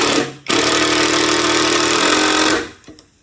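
A Goywato 21V cordless brushless impact driver sinks a 2.5 inch fastener into a 2x4. It gives one continuous loud hammering whir of about two seconds, then winds down, close and with no talk.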